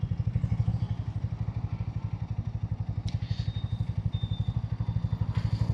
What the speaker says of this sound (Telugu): మళ్ళీ ఒకసారి మనం ఫుల్ థ్రాటిల్ ఇద్దాం